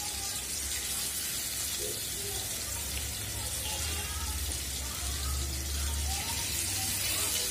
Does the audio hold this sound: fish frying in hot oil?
yes